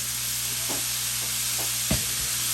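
Sausages frying in oil in a pan on a digital stovetop set to 5, with a steady close sizzle and a few brief scraping stirs.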